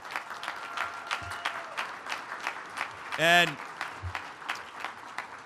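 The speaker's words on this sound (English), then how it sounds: "And give them a round of applause." An audience claps steadily through an acceptance speech, a dense patter of hand claps at moderate distance. A voice speaks briefly over it.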